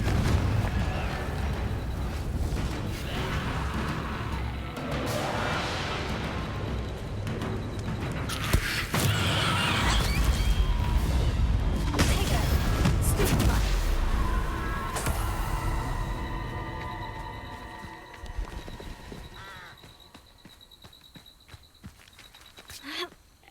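Fiery spell blasts boom and crackle in a castle battle in Hogwarts Legacy, a series of loud, rumbling explosions layered with footsteps and combat noise that fade out toward the end.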